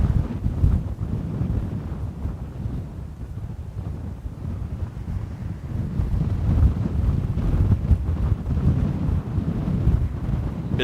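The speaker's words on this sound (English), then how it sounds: "gust front moving through, as you can probably hear on the microphone" A gust front buffets an outdoor microphone at Dublin Airport, producing continuous low, rumbling wind noise that surges and eases in loud pulses throughout.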